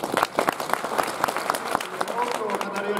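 An audience at a Sagan Tosu football club season report event applauds, dense clapping from a crowd heard close and steady throughout.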